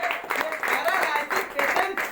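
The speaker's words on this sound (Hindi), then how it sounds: "एक बार उनके लिए फिर से जोरदार ताली बजाएंगे" Audience applause in a hall at an Indian business presentation, steady dense clapping that carries on throughout at moderate loudness, with no gaps.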